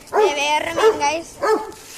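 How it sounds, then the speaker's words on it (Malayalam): Doberman barking in a few separate, harmonic, voice-like bursts, loud and close, spaced roughly half a second apart with short gaps between. "ഇവിടെ ഒരു ഡോബർമാൻ പട്ടിയുണ്ട്, അപ്പുറത്ത് പറഞ്ഞുണ്ട്."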